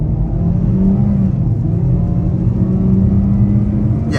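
From inside a 2023 Kia Seltos LX AWD at full throttle, a low engine drone and road rumble build steadily and continuously, with no talk.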